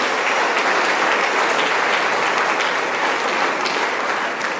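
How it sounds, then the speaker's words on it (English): A school-hall crowd at a national premier league player draft event applauds a high school and its staff, with dense, loud sustained clapping that fills the whole moment without pause. "Let's give them a round of applause."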